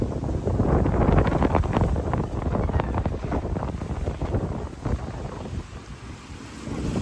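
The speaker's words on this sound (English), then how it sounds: "Oh, we got that wind finally" Wind roars steadily across the microphone aboard a sailboat on the Portuguese coast, a loud continuous rush with water and hull noise beneath, easing slightly toward the end.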